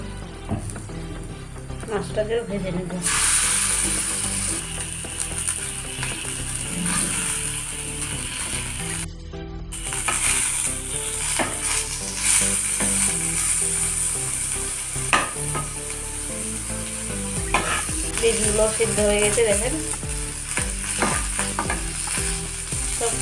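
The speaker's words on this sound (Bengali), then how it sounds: "মাছটাকে আমি লবণ হলুদ দিয়ে ভেজে নেব অল্প একটু তেল দিয়ে দেবো" Fish coated with salt and turmeric fries in a little oil, a loud continuous sizzle mixed with clattering and scraping from stirring, and a voice speaks intermittently over it.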